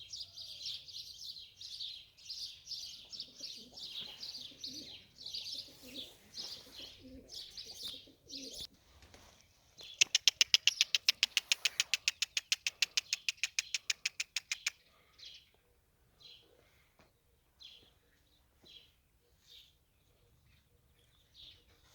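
White male pigeons coo softly and chirp. Midway, a rapid, rhythmic clatter of beating wings lasts several seconds before the cooing resumes. The sounds are fairly faint and there is no talking.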